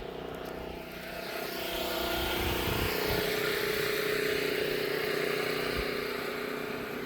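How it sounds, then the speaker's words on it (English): A generator runs with a steady mechanical hum while a well pump works in a desert setting, forming a constant engine drone that swells after the first second and holds loud and even, with no speech. "Generator's running, wells pumping."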